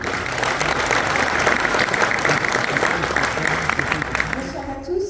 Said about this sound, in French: on peut l'applaudir encore une fois